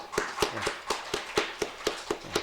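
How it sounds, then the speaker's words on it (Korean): A church congregation at a Sunday morning service gives a slow, rhythmic round of claps, about ten evenly spaced beats in unison at moderate volume. "우리는 하나님께 영광 돌리는 마음으로 한 박수로 한번 격려하십시다"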